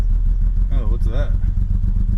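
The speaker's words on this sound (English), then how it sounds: "Nasty misfire." An Avant's engine runs roughly with a nasty misfire, a loud uneven low rumble that lurches and stumbles, with a brief rising whine in the middle.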